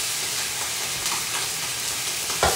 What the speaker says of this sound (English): how do you like that sizzle?